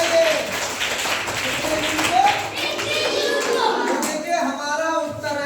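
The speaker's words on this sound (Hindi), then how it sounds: "शाबाश, ताली बजाइए" An audience in a Hindi-medium school entrance-exam class applauds, with steady clapping continuing under and around a voice talking.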